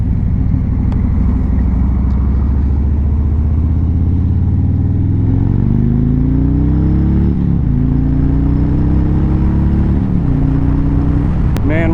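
A 2020 Harley-Davidson Road King S performance bagger accelerates on the road. Its loud, steady engine drone rises in pitch through the gears under heavy wind rush, recorded from the rider's position.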